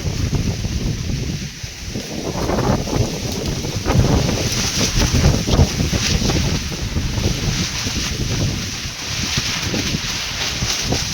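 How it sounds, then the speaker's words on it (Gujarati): Strong wind gusts through a village during a rainstorm, a continuous roaring rush that buffets the microphone, swelling and easing in waves. "તો પવન જ એટલો છે આપણા હાથમાં કઈ રહે જ નહીં"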